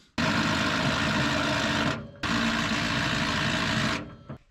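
An impact wrench hammers on a socket slipping over a rounded bolt on an International Scout, two loud sustained bursts of rapid rattling with a brief pause between, close by.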